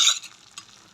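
Ground tomato is stirred in a pan for penne pasta, heard as one brief, fairly loud scrape followed by a softer stroke.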